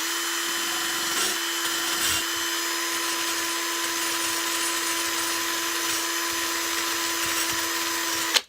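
A rotary polishing tool buffs corrosion and rust off a Hoover Junior U1650 vacuum handle held in mole grips, a steady loud whine with a constant tone running unbroken for the whole stretch before cutting off sharply.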